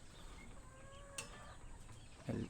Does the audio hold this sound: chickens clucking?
yes